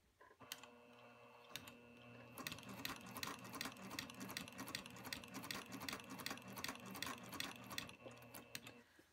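A sewing machine with a walking foot topstitches cork, the motor humming under a quick, steady ticking of stitches that runs continuously at close range and moderate volume.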